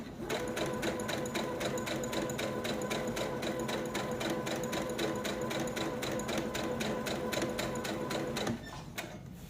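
Sewing machine stitching fabric for a tote bag runs steadily and loudly with a fast rhythmic needle pulse, stopping near the end.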